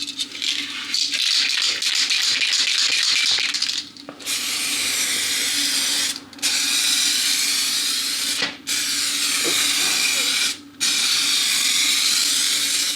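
A spray can of clear coat hisses in four long, steady bursts, each several seconds long, separated by short pauses, close and fairly loud, applied to restored Audi Q7 headlights.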